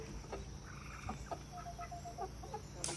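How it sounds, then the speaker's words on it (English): Chickens at an off-grid container house cluck softly in short scattered calls, faint and fairly distant over steady background noise, with no talking. "All the chickens in a row."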